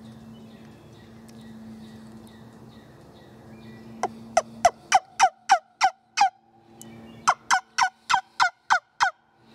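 After a low background hum, a series of sharp, high yelping turkey calls blown on a wingbone call, two bursts of rapid, loud clucks.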